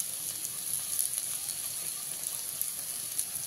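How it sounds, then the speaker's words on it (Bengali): Steady, close sizzling of round potato slices frying in hot oil, a continuous crackling hiss with small pops, no voices. "আমি যে প্রসেসে আলুটা ভাজছি"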